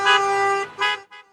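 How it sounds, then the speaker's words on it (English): Car horns honk at a Stop the Steal rally on a Long Island street: a long loud blast, a shorter second honk, then two fainter toots further off. "Trump supporters in Long Island, New York, drove their cars down the street one after the other, waving flags and honking their horns."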